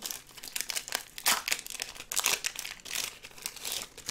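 A foil Dragon Ball IC Carddass card pack is torn open up close, with continuous crinkling and crackling in irregular bursts at a moderate level and no talk.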